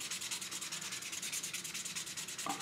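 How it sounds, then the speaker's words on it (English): Rhythmic back-and-forth color sanding scrapes against car paint clear coat, close and fairly quiet, repeating steadily with no talking. "and then I'll just start sanding"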